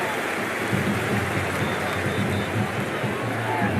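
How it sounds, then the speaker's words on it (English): Stadium crowd noise from a Cricket 24 simulated India versus Australia T20 World Cup match, forming a loud, steady roar with low rumbling murmurs and a talking voice beneath it. "all these spectators here today are completely enthralled and energised, judging by that noise anyway"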